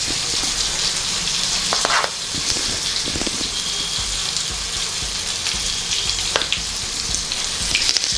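Oil frying for a red chilli pickle in a pan, a continuous close sizzle with a watery hiss and a few scrapes, no talk.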